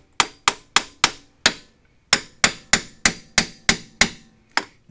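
Sharp, evenly spaced metal strikes from a 4-pound sledgehammer tapping a BMW xDrive AWD front driveshaft loose, about a dozen close, ringing hits in two quick bursts with a short pause between.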